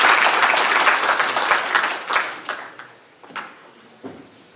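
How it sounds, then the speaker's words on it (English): A crowd applauds steadily, dense clapping filling the space, then thinning out into scattered last claps. "Can we please give him a big round of applause?"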